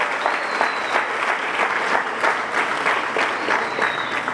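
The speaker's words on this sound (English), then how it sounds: "A round of applause for our benefactors and supporters." An audience at a high school graduation ceremony applauds benefactors and supporters, a steady, dense round of clapping from a large crowd that carries evenly through the whole stretch.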